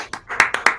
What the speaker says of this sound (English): We want to give a big round of applause and a big thank you to Bruce, our